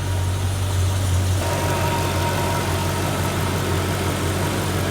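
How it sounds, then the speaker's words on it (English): A modified Mercedes SL55 AMG R230 with a VRP-tuned supercharged engine idles steadily close by, a smooth, continuous low rumble with no talk over it. "But the engine is smooth"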